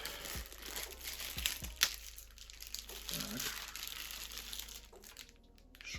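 Plastic parcel packaging crinkling and rustling as it is torn open, a busy stretch of close crackling with a few sharp tearing snaps, then quieting near the end.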